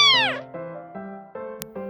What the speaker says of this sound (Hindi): उर्मी की छोटी सी नई बिल्ली